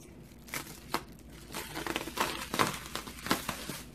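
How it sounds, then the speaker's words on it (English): Bubble wrap crinkling and crackling as it is cut off ring light packaging, soft irregular plastic rustles and snips close by, fairly quiet and alone. "Let me go ahead and cut the bubble wrap off."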